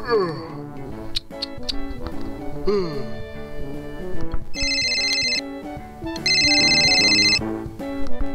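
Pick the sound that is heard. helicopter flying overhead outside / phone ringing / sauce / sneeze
phone ringing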